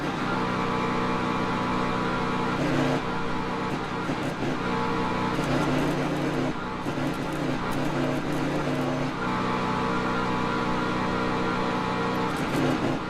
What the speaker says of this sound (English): that's my generator running.